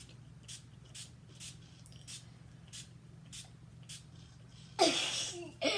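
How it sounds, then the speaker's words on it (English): Setting spray misted onto a face during a makeup session: a loud hissing burst near the end, followed by a short second spritz, after quiet room tone with faint ticks. "now you gotta put the setting spray on my face"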